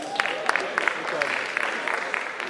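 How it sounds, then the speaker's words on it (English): Brief, scattered applause from an audience at a Zenith Bank Google digital training session, with light, uneven claps heard up close while voices murmur beneath them. "so a round of applause for them, please."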